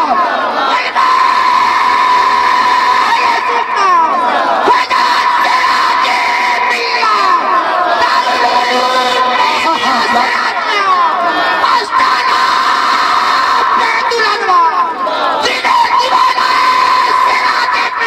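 A naat recital audience shouts and cheers loudly and continuously, a dense crowd roar with whoops and yells that stays intense from start to finish.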